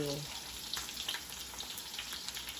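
Beef sizzling in a pan for chop suey, a steady close crackle of frying fat with scattered pops and spits, faint talk in the background.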